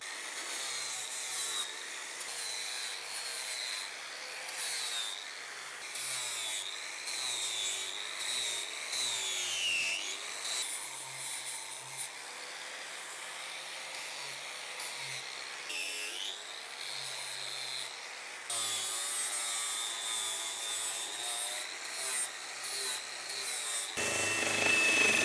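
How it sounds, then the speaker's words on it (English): Continuous rasping and rubbing of an old tree stump being sanded by hand, with rhythmic strokes and brief pauses, close and fairly steady. "I can move over to the final sanding and shaping stage."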